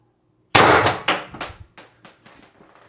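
A single sharp, loud crack from a Pistelle X-68 CO2 pistol, which has a 36g CO2 puncture failure, followed by a run of fading metallic rattles and echoes.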